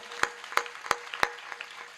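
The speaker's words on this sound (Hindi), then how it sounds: "एक बार अपनी अपनी मां के लिए ताली बजा के मुझे आदेशित कर दें।" Sparse audience clapping at a Hindi comic poetry gathering, honouring mothers: about four distinct claps, fairly faint, spaced roughly a third of a second apart, with quieter scattered claps trailing after.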